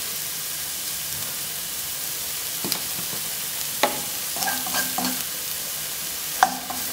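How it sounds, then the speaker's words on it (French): Vegetable stuffing seasoned with pepper, salt and thyme cooking gently in a pan, giving a steady soft sizzle with a few brief clicks and stirring knocks, close and continuous. "On fait cuire le tout tranquillement."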